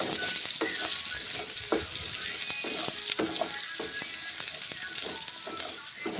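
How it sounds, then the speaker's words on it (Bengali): Mixed spices sizzle steadily in a hot pan while a spatula stirs them, and sharp scraping knocks break through the constant loud frying hiss at an uneven rhythm. "মিক্স মশলা দিচ্ছি সামান্য, নেড়ে চেড়ে নিচ্ছি মশলা।"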